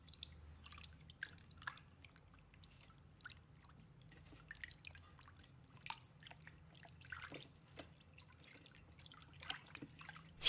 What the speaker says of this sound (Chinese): 搓洗后再倒入清水，用清水清洗干净。